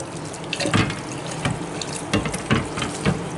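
Tap water runs into a sink for cleaning a dirty blade from a vintage Hassock fan, a steady splashing stream with a few louder gushes and surges, close and alone.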